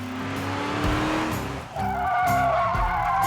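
A car slides across a spike strip with its tires skidding and squealing; a rising whine is followed by a sustained high screech, loud and close, with no talk.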